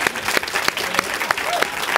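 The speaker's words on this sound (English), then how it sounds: "let's get a round of applause." Audience applause at a Tribeca film panel for the movie Bare, a brief spell of crowd clapping with a few sharp individual claps standing out, under and around a speaking voice.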